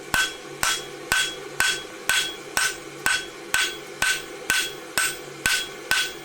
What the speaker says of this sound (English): We'll use the round side of the hammer